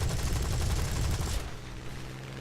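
Rapid aircraft gunfire in the War Thunder video game, a loud sustained burst of dense automatic shots lasting over a second before cutting off to engine drone.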